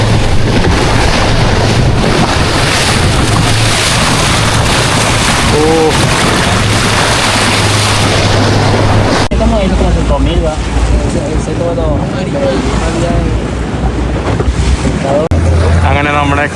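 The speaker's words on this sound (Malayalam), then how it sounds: "ബോട്ട് മറിയുന്നു പടച്ചോനെ" A boat pounds across rough open sea off the Colombian coast, with loud, constant wind buffeting, engine drone and crashing water, while voices are heard over the din throughout.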